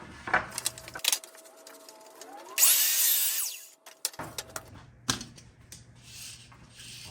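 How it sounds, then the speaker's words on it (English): A freshly tuned miter saw spins up and cuts through a piece of wood in one loud, whining burst lasting about a second, framed by scattered clunks and handling knocks in a workshop. "I just tuned up my miter saw, so we're gonna see how that's working"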